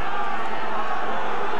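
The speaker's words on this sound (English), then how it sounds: "The crowd chanting only one thing." Football supporters at a 1998/99 Sydney United v Marconi match create a dense, steady roar of crowd chanting in a stadium, continuous and loud for a brief moment with no clear breaks.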